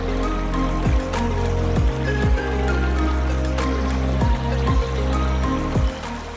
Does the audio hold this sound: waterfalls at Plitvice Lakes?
yes